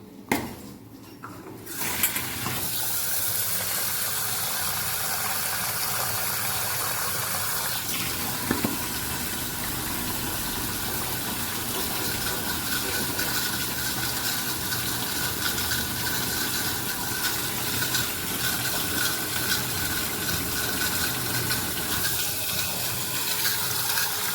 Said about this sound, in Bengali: আগে ভালো করে এটাকে ধুয়ে নিই